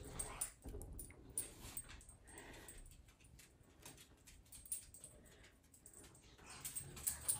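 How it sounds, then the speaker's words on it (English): A female dog whimpers and gives small growls while pushing her ball around with her nose, faint and intermittent in the background of a quiet room. "Sorry if you can hear my dog."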